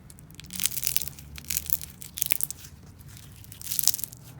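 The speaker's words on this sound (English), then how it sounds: "You could squeeze it and just let it sit so that it just inflates again, and then you squeeze it all over again and it just makes this satisfying sound." Slime cubes are squeezed by hand, giving soft crunchy crackles and crisp popping bursts that rise and fall in a few waves, close and quiet with no talk.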